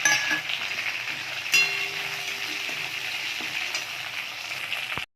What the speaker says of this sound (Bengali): এর মধ্যে 5 ফোড়ন, শুকনো লঙ্কা, তেজপাতা ফোড়ন দিচ্ছি